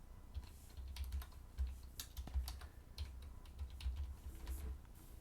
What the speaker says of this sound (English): and then you simply type in